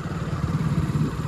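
A motorcycle engine chugs with a low, throbbing pulse while the bike is ridden along a road, a close, steady rumble for a brief moment with no talk.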